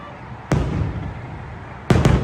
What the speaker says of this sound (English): the fireworks are actually right over here